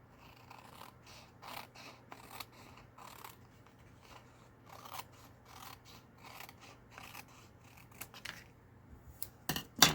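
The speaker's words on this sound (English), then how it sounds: "Need to finish trimming this side up." Scissors trim book-page paper for journal cards, a quiet close series of short crisp snips and paper rustles in an uneven rhythm, ending with a louder crinkle.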